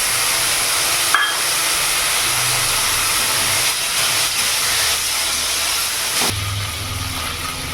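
A whole tomato drops into a hot pan of oil for silver carp curry, setting off a loud, steady frying hiss with a sharp clack near the start and another bump toward the end.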